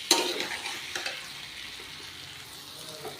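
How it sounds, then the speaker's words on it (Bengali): Potatoes and peas being stirred with spices in a hot pan for egg ghugni, a close, steady scraping and stirring over a soft sizzle, with a sharper clatter at the start. "এভাবে ভালো করে একটু মশলার সঙ্গে, আলুর সঙ্গে, মটরের সঙ্গে মিশিয়ে তারপরে জলটা দেবো।"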